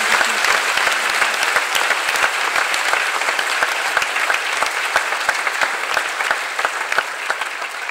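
Congregation at a Christian convention clapping hands in praise, a dense, loud, continuous wash of many hands close by without spoken words.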